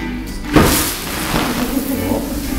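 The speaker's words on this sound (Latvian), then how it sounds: "bija slāpekļa radītās miglas sprādziens, kas uzšāvās līdz pat griestiem" A burst of liquid nitrogen fog shoots up to the ceiling during a science theatre show in Liepāja, giving a sudden loud boom-like thump followed by a sustained roaring hiss.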